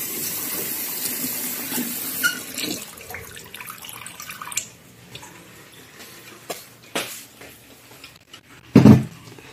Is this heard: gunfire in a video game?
no